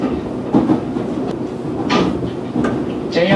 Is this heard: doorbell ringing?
no